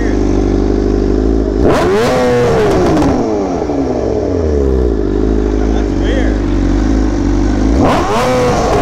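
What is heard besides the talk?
BMW M1000RR motorcycle engine revving to redline on E85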